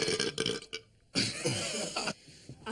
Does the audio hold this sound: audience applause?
no